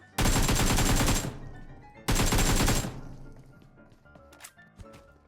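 Two long bursts of loud, rapid automatic gunfire in a video game, each lasting about a second, separated by a short pause, followed by quieter scattered clicks and thuds.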